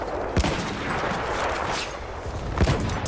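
Two loud, booming Obrez rifle shots from Battlefield 1 go off about two seconds apart against a dense, constant din of battlefield gunfire, with no voices.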